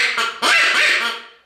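A duck call lure sounding a single ordinary duck quack, loud and close, a short nasal honk that rises sharply and then trails off.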